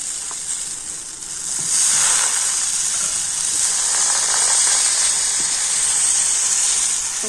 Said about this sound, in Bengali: তো আবার আমি একটু সাদা তেল এইভাবে ব্রাশ করে দিচ্ছি ব্যাটার দিয়ে দিলাম